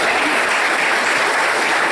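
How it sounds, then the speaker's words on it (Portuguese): An audience at a Spiritist family talk applauds in gratitude to the event helpers, a loud, close, continuous wash of clapping lasting a couple of seconds. "os nossos aplausos de gratidão a eles."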